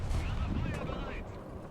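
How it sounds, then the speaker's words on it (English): Cannon fire in a tank video game, a rapid burst of booming shots close together, loud and continuous with rumbling low end and mechanical clatter over about two seconds. "we're going to fire 5 shots"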